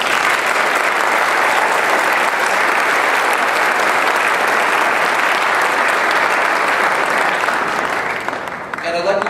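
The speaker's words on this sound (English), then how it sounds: "I would like to ask for a final round of applause for all of our award winners" Loud, sustained applause from the audience at an academic recognition ceremony honoring award winners and degree recipients, steady and dense throughout before tapering off near the end.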